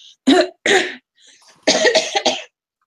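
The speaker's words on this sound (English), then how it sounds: "Ugh, got that cough." Several harsh coughs, two sharp bursts then a quick cluster of three, close to the mic with brief pauses between.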